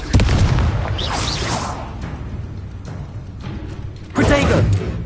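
Confringo explosive spell blasts in Hogwarts Legacy, a loud whooshing burst at the start and another near the end over rumbling booms, with a voice heard amid the combat noise.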